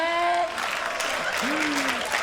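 Audience applause after a comedian's Canada goose call impression, with a brief warbling vocal imitation of the goose at the start and another honk-like rise midway, under a steady patter of clapping.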